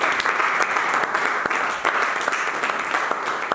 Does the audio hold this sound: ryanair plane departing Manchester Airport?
no